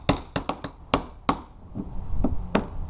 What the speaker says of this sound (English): take our cat's paw nail puller and a hammer and just hammer out and pull out these nails